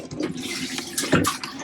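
Water gushes and splashes into a boat's hull through an open fitting, a steady close rushing flow with a louder surge midway.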